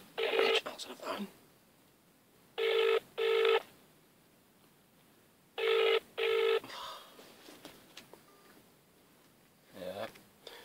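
An electronic telephone rings unanswered, sounding in paired double bursts three times with pauses between them, moderately loud and close, while people talk quietly before and after the rings.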